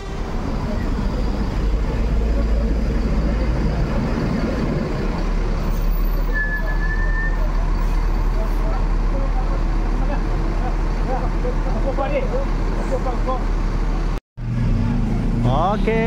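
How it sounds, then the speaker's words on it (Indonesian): A Sembodo coach bus manoeuvres into position at a busy roadside spot, its steady engine rumble mixed with surrounding traffic noise and faint voices, continuous and fairly loud throughout. "bus Sembodo ambil posisi yang ideal karena akan masuk Sembodo satu lagi ya"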